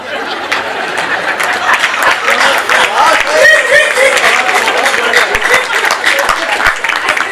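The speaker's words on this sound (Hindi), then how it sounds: "तालियां कम बजाते हो आप लोग।" An audience at a Hindi kavi sammelan poetry gathering in Shahjahanpur claps in a sustained, scattered round of applause, mixed with crowd chatter and murmuring voices.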